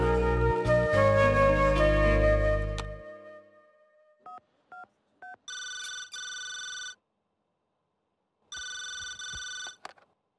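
A telephone rings in two long electronic bursts separated by a pause, following a few short dial beeps and a fading musical chord.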